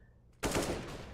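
AK-47 fire in the video game CS:GO, one abrupt loud burst that starts partway through and rings on with dense crackle, after a quiet lead-in.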